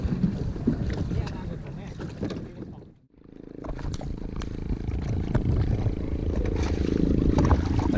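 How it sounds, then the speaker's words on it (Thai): Steady engine drone of a large boat on Songkhla Lake, with wind buffeting the microphone; a brief dip midway, then the rumble continues. "มีเรือ ลำใหญ่ วิ่งมาด้วย"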